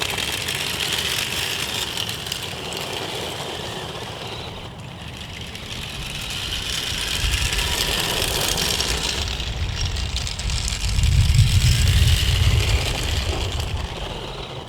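A homemade RC car on a test run, a continuous buzzing electric motor with gritty wheel and terrain rumble that rises and falls, getting louder and rougher toward the end.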